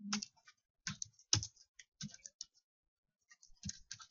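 Keys clack on a computer keyboard in short bursts of typing, with pauses between clusters and a firmer keystroke like an enter press, close and fairly quiet.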